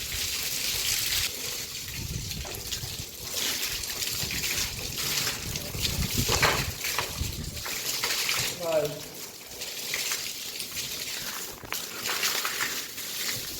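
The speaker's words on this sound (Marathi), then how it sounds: "तर फायनली कपिला अंगावर पाणी मारायचं आहे. आंघोळ घालायचं आहे" Water is sprayed and splashed over a farm animal during its bath, a continuous rushing, trickling wash that runs throughout, with people talking over it.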